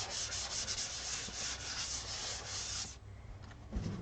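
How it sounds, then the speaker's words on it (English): Steady, continuous rasp of sandpaper lightly rubbing over a smooth, sealed acrylic painting surface for about three seconds, then it stops, leaving faint scuffs and a soft knock. "So now I need to lightly sand this."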